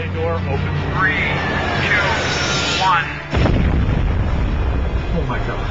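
A deep, loud atomic bomb blast rolls in abruptly and rumbles on, following a narrating voice heard over droning background sound.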